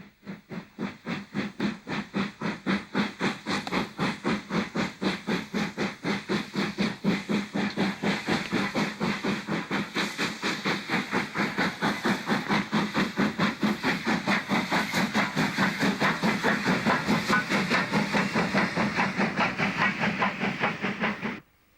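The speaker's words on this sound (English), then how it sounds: "number 30065 leaves Northiam station, which is en fête for the occasion, and crosses over the A28 Hastings Road" Steam locomotive 30065 pulls its train away from Northiam station, a festive country stop, with regular chuffing exhaust beats and steam hiss, close and steady throughout, quickening slightly before cutting off.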